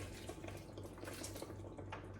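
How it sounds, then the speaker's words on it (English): Water runs steadily into a hot pan of pasta on a home stovetop, a continuous faucet-like splashing stream with no voices. "Let's add in a tiny bit of water."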